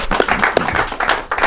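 A small crowd claps and cheers at a live hip-hop interview event, a short burst of dense applause with a few sharper hand claps standing out close by.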